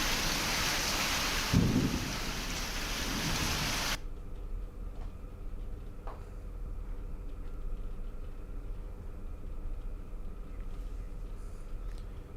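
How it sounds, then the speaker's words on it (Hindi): Heavy rain with hail pours down during a thunderstorm, loud and dense for the first few seconds before easing into a steadier, quieter downpour with a faint rumble in the background. "झमाझम बारिश के साथ ओले गिरे हैं।"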